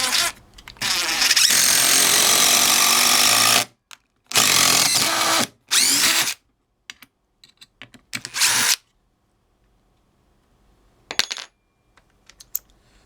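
Dewalt cordless drill driving a screw into wood: a long, loud whirring burst, then several shorter bursts that stop and start, followed by faint clicks and near silence.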